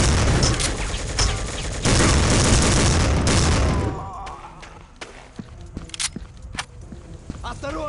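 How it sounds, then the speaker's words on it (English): A grenade explodes in the first-person shooter Soldier of Fortune II, a loud, sustained blast rumbling for about four seconds, followed by quieter scattered thuds, footsteps and game noise, with a voice talking. "did they throw a grenade in the wall?"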